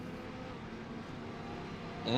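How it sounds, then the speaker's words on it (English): A GT racing car engine in a sim racing game at Snetterton drones steadily and faintly in the background, swelling slightly louder at the very end. "Engine's still running."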